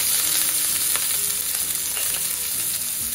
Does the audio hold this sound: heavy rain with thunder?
no